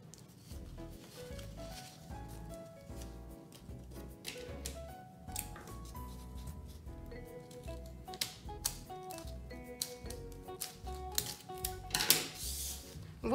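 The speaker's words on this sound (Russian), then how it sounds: "мы просто отрежем лишнее." Scissors cut away excess material from a craft handle on a homemade toy gun, giving a run of crisp snips and small clicks that grow denser and louder toward the end, with no one talking.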